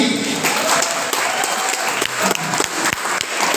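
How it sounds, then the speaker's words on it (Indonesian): At an inauguration ceremony for a regional alumni board, a crowd breaks into loud, sustained applause, dense clapping close by with a few sharper individual claps and faint voices mixed in. "Mohon izin untuk tepuk tangan yang lebih meriah lagi."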